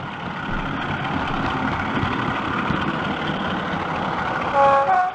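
A model Class 33 diesel locomotive engine sound drones steadily with a rumbling rail hum, a continuous moderately loud mechanical sound with a brief rise near the end.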